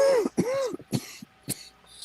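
A few harsh coughs and throat-clearing bursts, close and loud, spaced irregularly across the clip with brief gaps between them.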